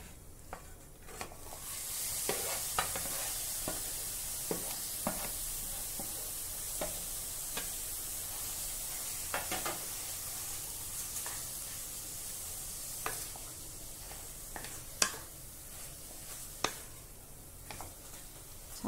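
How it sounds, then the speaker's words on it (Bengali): Fresh chhena with sugar is stirred in a pan on the stove, a soft steady sizzle with scattered scraping ticks of the spatula, close and fairly quiet, with no voices. "ছানাটা আমি ভালোভাবে নেড়ে, মানে জলটা শুধু যাতে না থাকে সেরকম করে নেব।"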